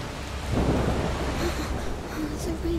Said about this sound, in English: The rain is getting worse.